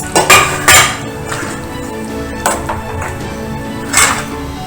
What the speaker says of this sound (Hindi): एक एक पनीर के टुकड़े डालते जाएंगे पालक के अंदर और अच्छे से मिला लेंगे बस